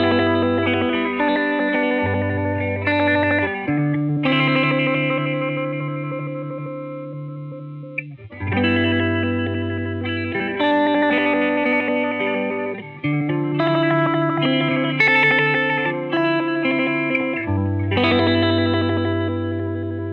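An electric guitar played through a Triungulo Lab Malombra chorus pedal, with some delay and reverb, rings out in sustained chords and single notes, the shimmering modulation continuous and prominent with no talking.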